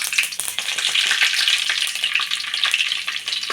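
Curry leaves drop into hot oil with mustard seeds and fenugreek for a Tamil fish curry, giving a dense, steady crackling sizzle with sharp pops and spatters close by, and no talking.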